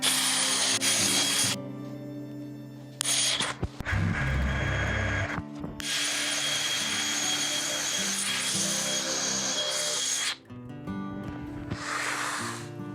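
A drill boring bench dog holes in a wooden vise chop clamped to a workbench edge, whirring in long loud bursts broken by short pauses and a clunk of handling, ending in a brief softer run.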